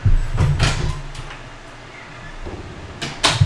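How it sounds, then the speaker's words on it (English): A cat pawing and scratching at a door, heard as a few soft bumping, rattling knocks in short bursts near the start and again near the end, with quiet stretches between. "My cat is pawing at the door."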